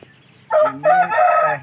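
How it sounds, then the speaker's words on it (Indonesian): A fighting rooster crows loudly and close by in one long drawn-out call split into a few strained segments, heard alone. "Ini ayam jalu super teknik."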